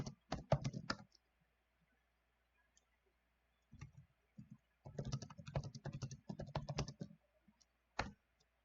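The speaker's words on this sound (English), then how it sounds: "Getting in that fast typing for my new job tomorrow" Rapid typing on a computer keyboard comes in two dense bursts of close, sharp key clicks separated by a pause, with a single brief tap near the end.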